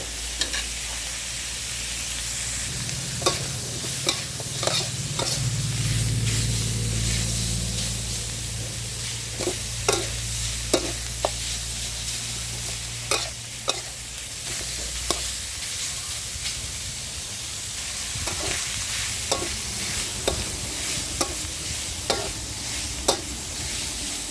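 Pork sizzles in a pan with red curry paste for a wild boar stir-fry, a steady loud frying hiss broken by repeated sharp clicks and scrapes from a utensil stirring the meat.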